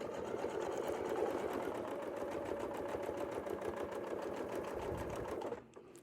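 A sewing machine stitches a quilt, running in a fast, steady mechanical whir for several seconds before stopping abruptly near the end; no voices are heard.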